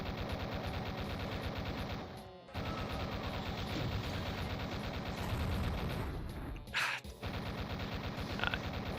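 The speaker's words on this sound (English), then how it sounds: "We go for the chain gun because we haven't even used it yet." A chain gun fires continuously in a Doom-based first-person shooter on a military base map, a loud rapid stream of shots that pauses briefly twice, with a blast and other in-game effects mixed in.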